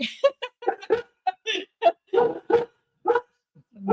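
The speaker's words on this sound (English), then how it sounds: "Sorry, the dogs." Dogs bark indoors in a rapid burst of sharp, close, loud barks and yips with short gaps between them, and no talk.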